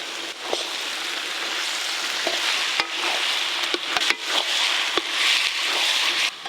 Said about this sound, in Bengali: আদা রসুন বাটা দিয়ে সব কিছু একসঙ্গে ভালো করে ভাজবো।